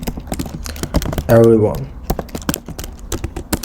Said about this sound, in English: I should type and keep typing.